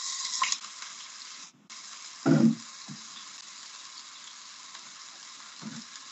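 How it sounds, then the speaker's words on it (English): Onions dropped into a hot pan hiss and sizzle steadily for egg noodles, with a soft stir or clatter partway through, close and moderately loud, no talking. "We just drop the onions in and give them a fry"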